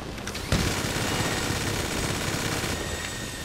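Gunfire in GTA 5 Online bursts in after a brief quiet moment and holds as a sustained, loud, rapid automatic barrage of shots at close range.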